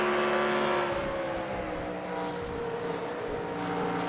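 Race truck engines in the NRSL Advocare Truck Series racing video game drone at high revs with a steady, sustained whine, several motors blending into one continuous roar without pauses.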